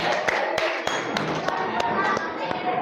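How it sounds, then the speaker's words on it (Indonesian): Hands clap in a classroom after a children's movement game, a run of sharp separate claps at a steady beat with children's voices and shuffling underneath. "Nah, tepuk tangan"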